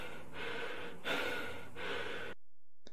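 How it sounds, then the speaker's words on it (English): Heavy, exhausted breathing after running, made as a sound effect: three long, loud, rasping breaths in an exhale-inhale cycle fill the clip, then it cuts to near silence. "So you can hear with the heavy breathing,"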